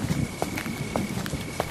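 Slow footsteps advancing through a dark, dense forest in light rain: about five evenly spaced soft thuds, each with a faint crunch, over a steady background hiss.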